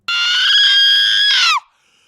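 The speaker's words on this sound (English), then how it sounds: "which sounded like a girl screaming." A single loud, shrill scream holds for about a second and a half, then slides downward and cuts off into near silence.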